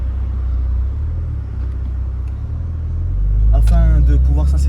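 Porsche 911 Targa 4 GTS in sport mode, engine note rising as it downshifts: a steady low rumble swells near the end into a louder, harsher rev, with indistinct voices faintly present.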